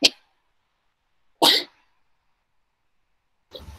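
Two sharp sneezes burst out separated by silence, followed by a fainter third burst near the end, sounding close and abrupt.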